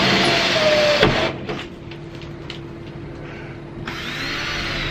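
A power drill bores marker holes through a camper van door during a self-build window fit, a loud steady whine for the first second, then quieter clatter and hum before the motor spins up again near the end.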